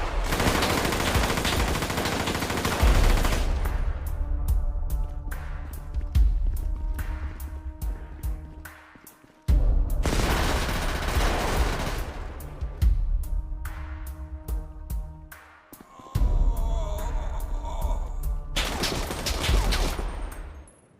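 AK-47 gunfire in an animated shootout, dense sustained bursts of rapid, loud automatic shots with brief pauses between volleys, heavy and continuous.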